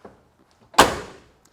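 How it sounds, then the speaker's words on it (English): The door of a 1968 Dodge Super Bee swings shut with a single solid, close thunk that rings out briefly, preceded by a faint click of the latch and handle. "The door shuts really nice."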